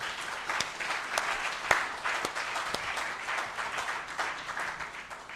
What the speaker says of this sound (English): let's give the West Africa Center for Crop Improvement a round of applause.